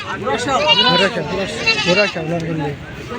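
Goats bleat repeatedly at a small village goat market in Ghorashal, Narsingdi, a series of loud, close, wavering cries overlapping one another with people talking nearby.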